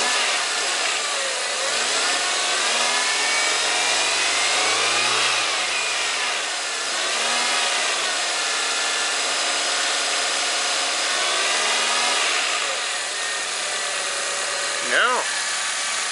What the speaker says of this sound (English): Let's give it some gas and see what happens.